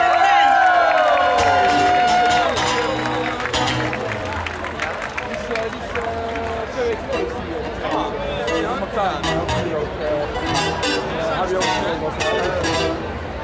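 Festival crowd at an outdoor summer fair loudly cheering, whistling and clapping to welcome a band, a lively sustained roar with shouts and hand claps and some voices mixed in.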